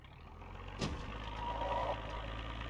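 A car engine idles low and steady in the Project Zomboid video game while the car nudges another vehicle. A single dull bump sounds partway through, and the rumble stays quiet and continuous.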